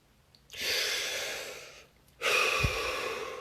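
Two long, breathy exhales, each rising fast and fading slowly, are taken during a guided relaxation exercise. They sound close and steady, with a short silent pause between them and no talking.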